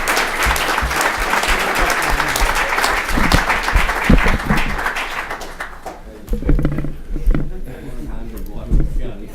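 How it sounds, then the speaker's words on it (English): An audience gives a round of applause for panelists at a conference event, dense sustained clapping that stays loud throughout and thins slightly toward the end. "Please give a round of applause to our panelists."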